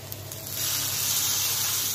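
Chopped onion sizzles and hisses steadily in hot oil in a pan, being fried as a topping for Egyptian bessara, a fava bean dip. The sizzle is close and builds slightly, then holds steady with no talking.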